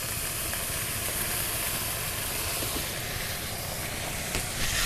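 Water hitting chilli powder, turmeric and spices in a hot pan, giving a loud, dense, continuous hiss and sizzle from up close.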